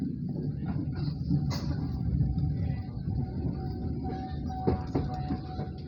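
KA Dharmawangsa passenger train pulling into Pondok Jati station, heard as a continuous loud rumble of rolling wagons with occasional clanks and a faint squeal, no talking.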